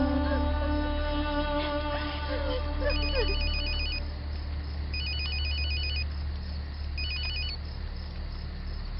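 A telephone rings in repeated electronic bursts, three ring cycles over a steady low hum, with no one talking.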